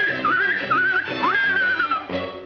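A cartoon rooster character in a classic Looney Tunes short imitates a horse neigh with his voice, a loud, wavering whinny that rises and falls in several quavering bursts before ending.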